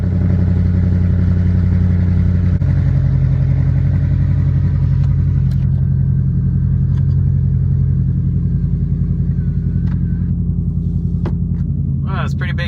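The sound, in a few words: car engine and exhaust while driving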